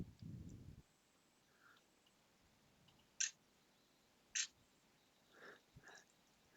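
A Nikon P900 camera with a power fault, its shutter button pressed and the mechanism giving two short, sharp clicks close to the microphone, with faint handling rustles around them in an otherwise quiet room.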